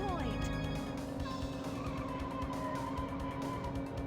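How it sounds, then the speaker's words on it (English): A glitched car engine stuck at full roar in the N64 racing game Cruis'n World: a steady, loud, droning whine with layered tones that holds constant throughout, with brief tire-skid squeals mixed in near the start. "The engine noise is just at max now."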